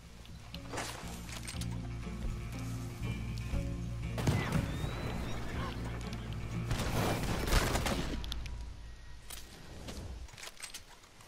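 Gunshots in the Red Dead Redemption 2 Wild West game, several sharp shots scattered over a background of game music, faint and moderately distant.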